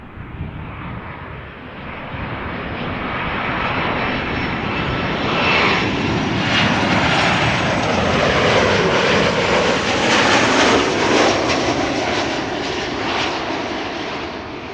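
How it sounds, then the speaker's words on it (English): KLM passenger jet landing at Amsterdam Schiphol after a flight from Milan, a loud sustained engine roar rising and sweeping past, then easing slightly toward the end, with no voices. "This is KLM flight 1614 arriving from Milan"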